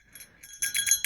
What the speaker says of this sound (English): You have like a holiday bell? I do, because it's the holidays. That's my jingle bell.